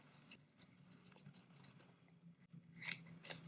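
Scissors snipping a pipe cleaner while assembling a spring deco mesh wreath, a few faint, quiet cuts and light handling rustle close by, with a sharper snip near the end.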